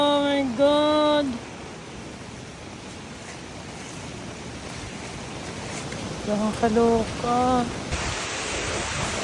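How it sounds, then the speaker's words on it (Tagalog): Strong typhoon wind roars with rushing floodwater as a steady, loud broadband wash, while excited voices exclaim over it near the start and again later. "Sobrang lakas na ng hangin at ang taas na ng tubig"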